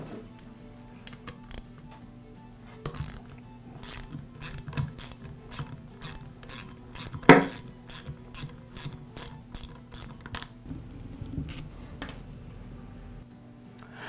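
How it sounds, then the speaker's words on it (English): Ratchet wrench loosening the head bolts on an air compressor pump, with repeated bursts of rapid clicking pawl strokes close by and short pauses between turns over a low steady hum. "the next step is to remove the head bolts"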